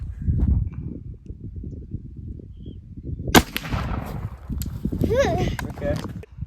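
An original 1842 Springfield rifle musket fires a single sharp, loud shot midway through, with people talking and moving around before and after.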